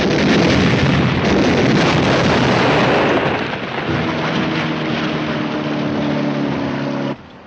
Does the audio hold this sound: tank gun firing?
yes